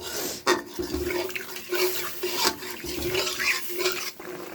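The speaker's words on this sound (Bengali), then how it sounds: "এখন জল দিয়ে দিচ্ছি।" Water poured from a vessel into a potato and cauliflower curry in a pan, a close gurgling splash with a few short breaks and surges, loud and without voices.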